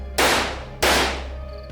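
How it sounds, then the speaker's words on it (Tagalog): Two loud gunshots from a police officer's handgun, sharp close cracks about half a second apart, each trailing off in a decaying echo, with no talk. "Pinaputukan ng pulis ang aswang gamit ang hawak na baril."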